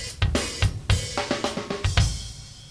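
Short drum beat with a hi-hat ostinato alternating open and closed strokes, kick and snare hits spaced in a steady groove, played alone and close up.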